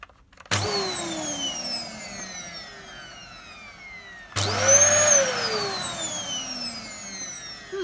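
A Dyson DC33 vacuum cleaner, reportedly blocked, is switched on twice, each time whining up to a loud, rising motor roar with a bright high-pitched whistle that settles into a steady running drone.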